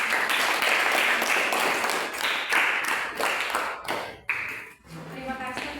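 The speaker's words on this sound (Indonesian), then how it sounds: "kita beri aplaus dulu untuk" A classroom of students claps for a student group, a burst of many hands applauding loudly for a few seconds, then thinning into scattered claps that trail off as a voice speaks.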